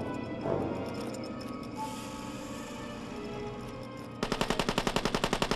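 Automatic gunfire in the Rainbow Six tactical shooter game, a rapid burst of evenly spaced shots rattling loudly near the end, over a steady background of game ambience and earlier scattered gunfire.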